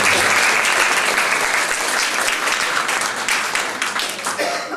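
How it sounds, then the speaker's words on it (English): An audience at a community share night breaks into sustained applause, dense, loud clapping from many hands that continues throughout and tapers slightly at the end. "Give her a round of applause."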